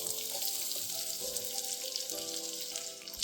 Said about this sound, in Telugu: ఇది కూడా హై ఫ్లేమ్లో పెట్టుకుని ఫ్రై చేసుకుందాం గోల్డెన్ బ్రౌన్ కలర్ వచ్చేదాకా